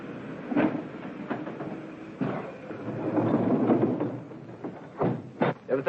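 A 1940s train runs on rails with a continuous rumbling roll and sharp, irregular clacks and thumps from the wheels and cars, fairly loud and close.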